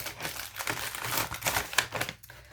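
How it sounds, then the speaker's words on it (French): Sheets of paper being slid and tucked back into a paper envelope, with close, quiet, continuous crinkling and rustling that comes in small bursts and has no talking over it. "je remets tout dans ton enveloppe pour ne rien perdre"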